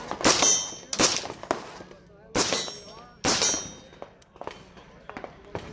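Several sharp, loud gunshots from a 6mm Max rifle fire at irregular intervals, each a crisp crack followed by a short echoing decay, with quieter clatter between shots.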